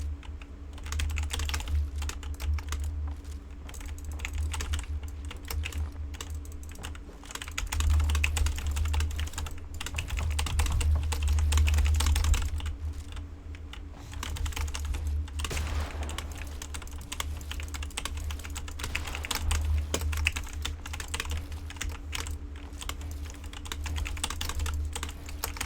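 Rapid, continuous clacking of keys on a computer keyboard during gameplay, close and steady for nearly half a minute, with bursts of heavier keystrokes and no talking.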